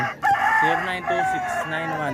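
A rooster crows close by in a long, drawn-out call, with clucking fowl mixed in, likely gamefowl offered for sale.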